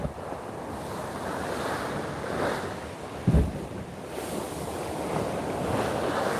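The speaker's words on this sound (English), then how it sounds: "Those waves are a cranking." Ocean surf at Waikiki Beach, Hawaii, at sunrise: a steady rushing wash of breaking waves heard from back up the beach, with wind buffeting the microphone and one brief thump partway through, no voices.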